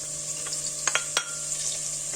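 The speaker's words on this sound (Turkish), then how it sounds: "Kırmızı biberi de ekledikten sonra şimdi birkaç dakika kavuruyorum." Onion and red pepper sizzle in butter in a hot pan, a steady frying hiss broken by a few quick stirring scrapes and clicks, with no talking.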